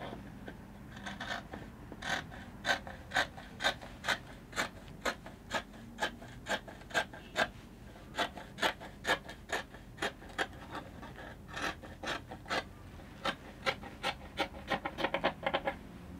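Scissors cutting through folded fabric with a lining layer on top, a regular series of crisp snipping crunches about one every half second, close and fairly quiet with no voices.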